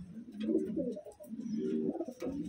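Pigeons cooing nearby, a close, low, throaty burbling in two rolling phrases, with no talk over it.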